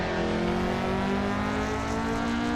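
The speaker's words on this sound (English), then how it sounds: "Listen to that exhaust, boys and girls." A tuned Toyota AE86 exhaust in Assetto Corsa drones steadily on the Nordschleife with a buzzing engine tone, holding a fairly constant pitch throughout, no voices.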